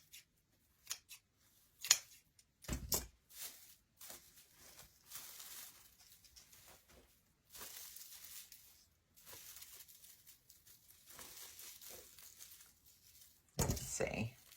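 Scissors trim a DIY scarecrow shelf sitter's curly hair in quiet, close snips and papery rustles, scattered in short bursts with pauses between.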